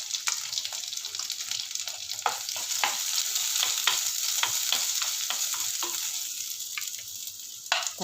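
Onions fry for manathakkali soup, sizzling steadily in a pan with a bright hiss and scattered crackles and stirring scrapes, close and continuous with no talk.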